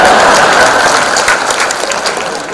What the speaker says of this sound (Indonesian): Tepuk tangan buat ikan.